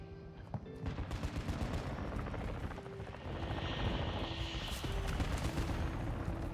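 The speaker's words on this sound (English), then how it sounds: "Did they get a chopper gunner too?" A chopper gunner helicopter in a shooter video game: continuous rotor and engine thrum under rapid bursts of gunfire, dense and loud throughout.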